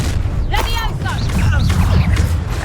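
A Confringo spell in Hogwarts Legacy erupts as a deep booming blast with a low rumble, while voices talk over it and bright magical shimmers ring out above.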